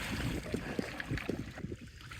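A canoe is paddled and dragged along a shallow river, with soft watery splashes and scraping strokes close by, faint wind and stream noise under it, and no talking.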